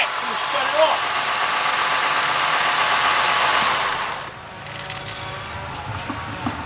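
A running car engine on a single-coil ignition system hums and whirs steadily, then cuts out after about four seconds, leaving faint ticks and a quiet room; a voice speaks briefly.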